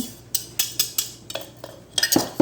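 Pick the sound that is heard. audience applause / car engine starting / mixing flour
mixing flour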